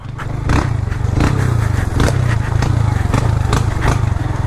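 A small motorcycle engine strains hard as it climbs a steep jungle trail, a loud continuous throbbing drone with rhythmic surges and scraping, close throughout.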